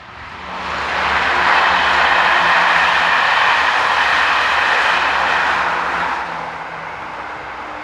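AM82 electric multiple units number 349 and 368 pass on a four-track Belgian main line, a loud, steady rushing roar that swells in, holds for several seconds and then eases off.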